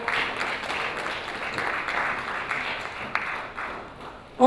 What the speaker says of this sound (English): Please, a round of applause before.